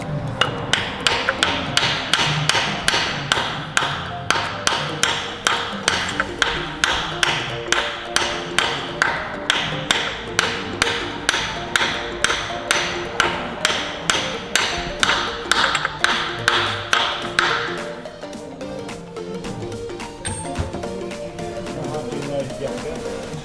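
A part is tapped into a Nissan Patrol TB45 turbo gearbox valve body with a long steady series of close metallic hammer taps that ring slightly, then the taps turn softer and duller as the part bottoms out, with no talking.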